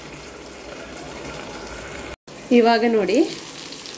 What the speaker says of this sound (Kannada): ಇನ್ನೊಂದು ಸೈಡ್ ಕೂಡ ಫ್ರೈ ಆಗಲಿ